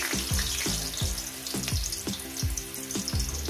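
Potato pieces frying in hot oil in a pan, with a steady loud sizzle and recurring low rhythmic thumps underneath throughout.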